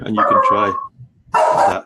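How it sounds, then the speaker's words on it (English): A pet dog gives a short bark-like vocalization in a home during an online live session, sounding between stretches of close speech. "that was my dog saying yes"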